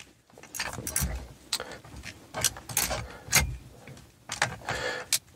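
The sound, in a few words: scrambling combination dials on steering wheel lock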